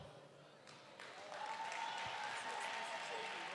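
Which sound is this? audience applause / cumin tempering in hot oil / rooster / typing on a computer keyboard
audience applause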